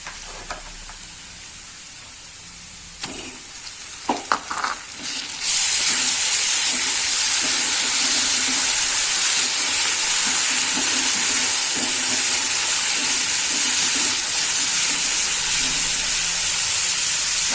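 Onions go into a hot pan for a Kathiyawadi guava curry, setting off a sudden loud, steady sizzle and hiss after a few clattering sounds, continuing close and strong to the end.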